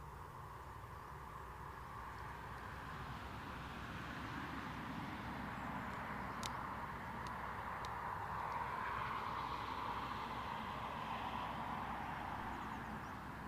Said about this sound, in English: So no mystery where this Embraer 195 E2 is heading.